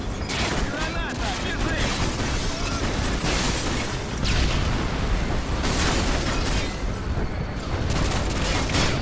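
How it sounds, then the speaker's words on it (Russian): A grenade explosion in Call of Duty: Modern Warfare 2 on veteran difficulty, heard inside a loud, dense battle din of booms and gunfire, with speech over it. "Граната,"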